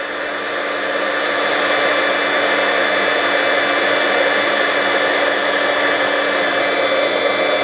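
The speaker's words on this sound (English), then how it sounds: "So now we're ready to emboss that with the embossing tool." An embossing heat tool blows steadily on foil paper, a loud continuous airy roar that holds constant from start to finish with no voices.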